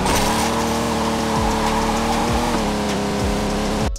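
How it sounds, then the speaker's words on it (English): Engine of a drift car in the Android game Project Drift 2.0 revs loud and steady, with repeated gear-shift drops and tire squeal as the car slides, no voices. "This is a new offline drift simulator for Android with a whole bunch of cool cars and a wide open world map."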